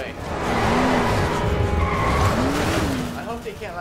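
A car drives and skids through the zombie game Dying Light, with a steady engine drone and repeated tire squeals over about four seconds, while a voice talks over it.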